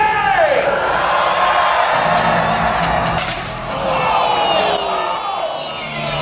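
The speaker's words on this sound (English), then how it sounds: "The crowd goes crazy!" A large crowd at a jousting tournament cheers and whoops loudly, a dense sustained roar of yells and shouts that dips briefly midway before swelling again.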